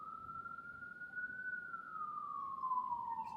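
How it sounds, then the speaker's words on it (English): A single ambulance siren on a street in Kensington, Philadelphia, rising and falling in a steady wail. It holds at a moderate distance over a low rumble of traffic and stays without a break for the whole stretch. "It's coming from an ambulance in Kensington, Philadelphia."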